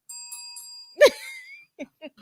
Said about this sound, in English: got the little bell here going